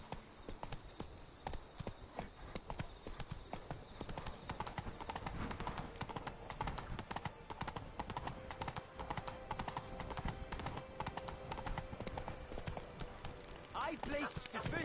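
Hooves of Roach, a horse in The Witcher 3 video game, clip-clopping in a steady, continuous rhythm throughout, close and fairly clear, with voices speaking over the hoofbeats.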